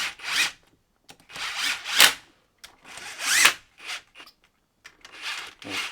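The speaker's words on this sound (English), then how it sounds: "Use the screw gun to tighten these cam caps down." A screw gun runs down the cam caps on an R7 turbo engine during a build, in several short, close whirring bursts separated by brief silences.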